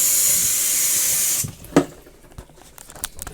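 Cold water tap running into a motorhome sink, a loud steady hiss of flow that shuts off after about a second and a half, followed by a few faint clicks and knocks.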